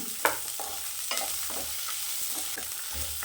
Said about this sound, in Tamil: நல்லா இந்த பச்சை ஸ்மெல் போகிற வரைக்கும் நல்லா வதக்கி விடுங்க